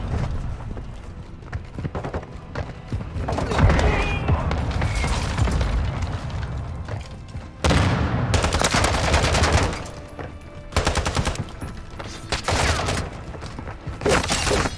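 Loud, sustained ISO Hemlock assault rifle gunfire in Modern Warfare 2 gameplay, long automatic bursts with brief pauses and a sharp renewed volley partway through, dense crackling shots dominating throughout.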